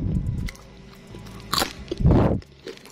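A crunchy fried snack with boiled egg inside is bitten and chewed close to the microphone, giving a few loud crisp crunches with brief pauses between bites.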